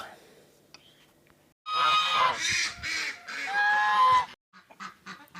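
A goose laying an egg gives out loud, close, repeated honks in a few strained bursts, separated by short quiet gaps, on a farmyard morning.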